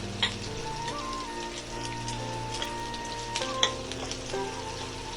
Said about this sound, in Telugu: ఉల్లిపాయలు కొంచెం గోల్డ్ కలర్ వచ్చే వరకు వేయించుకోవాలండి